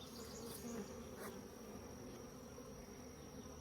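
Honey bees lifting off a hive frame during a hive combining, a dense steady buzzing drone close by, with a few louder passes as individual bees fly near; no talk.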